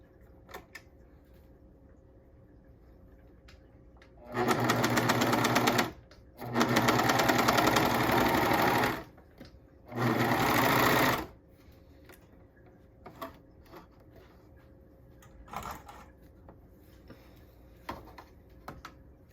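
A sewing machine stitches a leggings waistband in three loud, steady bursts. Short quiet gaps fall between the bursts, and faint handling clicks follow.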